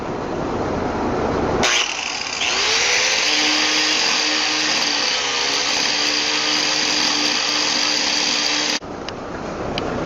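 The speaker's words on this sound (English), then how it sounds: "I'm going to take that off with the angle grinder." An angle grinder spins up and cuts a cypress storage box overlap, a loud whining roar with shifting tones held for about seven seconds before it cuts off abruptly, no one speaking.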